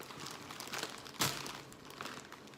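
A plastic rice bag crinkles close up as it is torn open, with scattered rustles and one sharp tearing burst, fairly quiet throughout.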